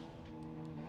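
Nissan 370Z drift car on Nexen tires at Formula Drift qualifying in Orlando, its engine a steady distant drone with a faint higher whine, held under a constant roar with no voices.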